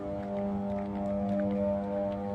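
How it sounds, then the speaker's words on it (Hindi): Steady electrical hum from a transformer at a substation, a constant low droning tone with strong harmonics, even and unbroken, heard alone without voices. "इसको बोलते हैं ट्रांसफार्मर हमिंग साउंड"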